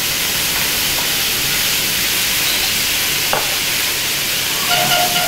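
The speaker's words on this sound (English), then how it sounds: "So again, naked flame with the gas and ignite it." Whiskey sauce flambéed over a naked gas flame in a home kitchen gives a steady, broad hiss and sizzle, with a brief whoosh partway through and a few small clicks near the end.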